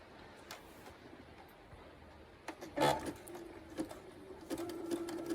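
A sewing machine stitches a lengthened 3-step zigzag on knicker fabric in quiet, soft short bursts of whirring and clicking that grow busier and louder toward the end, with faint handling sounds between.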